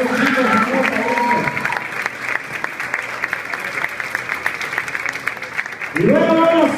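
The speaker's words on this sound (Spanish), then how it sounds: "el aplauso para todos los profesionales que están apoyando a estos chicos" An audience at a salsa dance competition awards ceremony claps steadily for several seconds, with a person speaking Spanish before the applause and again as it fades.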